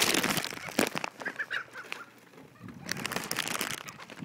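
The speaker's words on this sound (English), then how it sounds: "Seagulls! Who wants more chips?" Seagulls crowd a dock in Jersey, squawking and calling in sharp bursts near and loud as they compete for chips, with brief quieter gaps between the calls.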